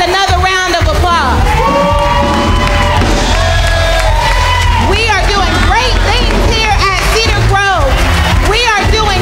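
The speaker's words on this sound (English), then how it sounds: "give the kids another round of applause" A church congregation in Chester, South Carolina cheers, whoops and shouts loudly for the kids, with a crowd roar and excited voices sustained throughout.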